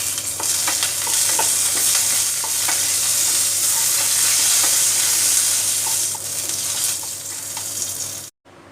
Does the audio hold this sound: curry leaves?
yes